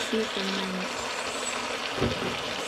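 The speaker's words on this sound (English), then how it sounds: "Now I add some soy sauce." Soy sauce poured onto beef sizzling in a hot pan, a steady close hissing fry with a couple of faint tonal sounds over it and no talk.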